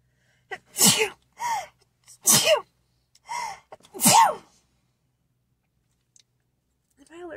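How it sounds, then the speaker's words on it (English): A series of four loud, close sneezes, each a sharp breathy burst, with short pauses between them and a quiet stretch afterward. "I about sneezed all over this car."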